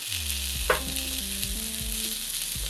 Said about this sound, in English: Once the pan's hot enough, add the eggplant and cook until it's nicely browned.